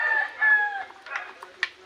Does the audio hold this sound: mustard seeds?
no